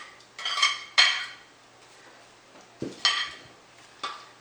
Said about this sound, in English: So now the time we put on the vegetable we chopped before in here.